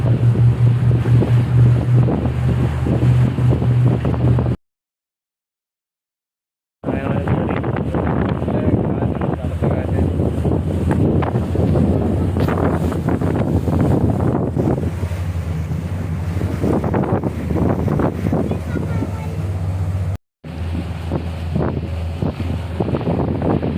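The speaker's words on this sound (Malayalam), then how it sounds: "നൈറ്റ് ക്രൂസ് നടത്തുന്ന ബോട്ടാണ്" A night cruise boat moving on the water in Dubai, with steady engine rumble, wind buffeting the microphone and rushing water and wash throughout, loud and close, cutting out briefly twice.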